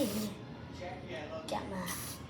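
Insect repellent sprays from an aerosol can onto a body in a few short, close hissing bursts, with a person speaking softly between them.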